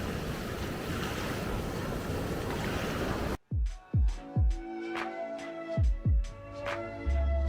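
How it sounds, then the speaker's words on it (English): Surf pounding at Uluwatu beach in Bali on the Indian Ocean, a dense roar of breaking waves and wind for about three seconds, then it cuts to a quieter stretch of separate low thuds and tonal clunks. "this beach here gets pumping with waves that surfers love"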